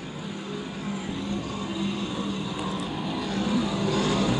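USAC sprint cars race in single file at Lakeside Speedway, producing a steady, dense engine roar that builds slightly as the pack passes.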